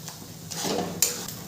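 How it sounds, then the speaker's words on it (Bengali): Spoon scraping and clinking in a pan while mustard greens are stirred over a low gas flame, a few soft metallic taps and a brief sizzle, quiet and close. "ভালো করে মিশিয়ে নেব।"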